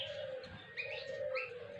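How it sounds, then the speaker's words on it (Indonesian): A small pet bird chirps in its cage on a morning outdoors, a few short bright chirps over a steady low hum, fairly close and faint, with no one talking. "Pagi ini aku menjemur burung kecilku ini."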